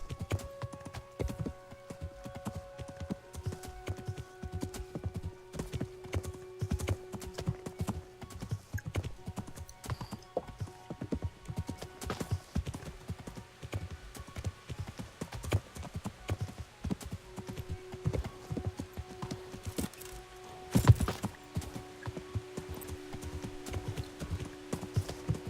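Horse hooves clip-clop at a steady galloping rhythm in the medieval game Kingdom Come, with an occasional whinny and faint game music beneath.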